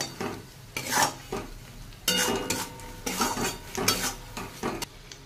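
A spoon scrapes and stirs a spice paste of salt, Kashmiri chili powder, turmeric and ground coriander-cumin frying in a pan, with irregular close scraping strokes over a soft steady sizzle and no voices.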